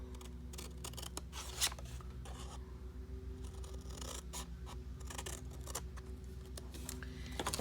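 Paper corners being nipped off with scissors at a slight angle while assembling a 6x6 mini album, giving quiet, close snips and faint scraping strokes spread over a steady low background hum, with no voices.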